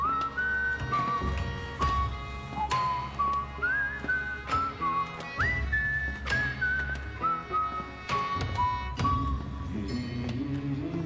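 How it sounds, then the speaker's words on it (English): A character in the video game Warframe whistles a wandering melodic tune, clear and up front over steady background game music and rhythmic thumps. "how are you whistling? You don't have a mouth."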